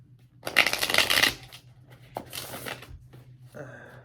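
Tarot cards are shuffled in quick riffling bursts, a loud flurry followed by two softer shuffles, close up with no talking.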